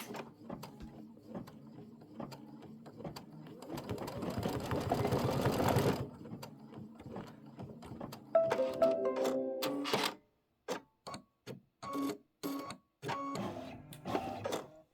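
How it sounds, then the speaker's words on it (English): An embroidery machine sews the placement stitch for appliqué wings on a quilt block, starting with a low mechanical whirr that builds into dense rapid stitching, followed by sharp intermittent clicks and short runs of stitching with brief silences. "now it's going to do the placement stitch for the wings"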